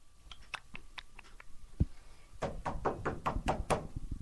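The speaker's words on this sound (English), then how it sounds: "Then all of a sudden I hear a knock." A knock on a door, a sound effect: a few light taps, one low thud, then a series of louder, evenly spaced knocks, close and with no talking.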